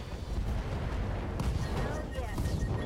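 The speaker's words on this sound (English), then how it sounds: "Something big blew up." A big explosion erupts during mech combat in RogueTech, set in an artillery barrage zone, giving a dense, continuous roar of blasts and rumbling fire that stays loud and close for the full few seconds.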